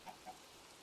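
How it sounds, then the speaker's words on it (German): A chicken in the farming game Farming Valley gives two short, soft clucks in quick succession, fairly faint against a low background hum. "Hühnchen, wo bist du? Ich höre dich"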